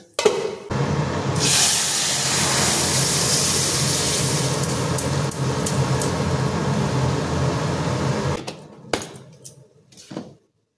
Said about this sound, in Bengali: তো এবার আমি ডালটাকে ঢেলে দেব।